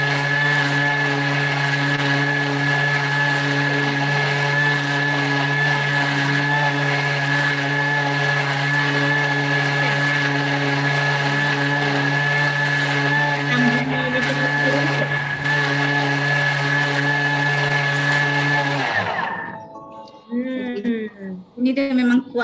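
A Thermomix TM6 motor runs steadily at high power for about nineteen seconds, a loud sustained whir with stable tones, then cuts off abruptly as people begin talking.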